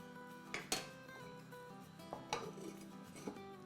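Metal lid set onto a cooking pot of chicken handi, giving several light clinks and scrapes over a quiet kitchen background, close but soft.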